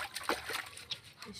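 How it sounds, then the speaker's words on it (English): Water splashes and sloshes in repeated uneven bursts during an outdoor bucket shower in an African village, close and wet. "We shower."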